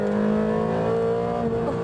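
A loud, high-revving Ferrari 360 Challenge Stradale engine holds a steady, rasping drone with a slight rise and fall in pitch, close by and continuous.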